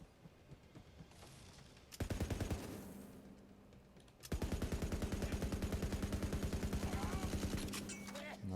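Rapid automatic gunfire in the video game Tiny Tina's Wonderlands comes in two long, loud, dense bursts of rhythmic shots, with quieter clicks before them.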